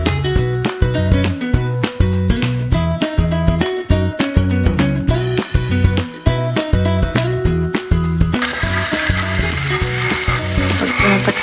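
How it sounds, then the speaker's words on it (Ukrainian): Food frying in a pan at a home barbecue, a loud continuous sizzle, accompanied for most of the stretch by rhythmic music; the music drops out near the end, leaving the sizzling alone. "смажиться."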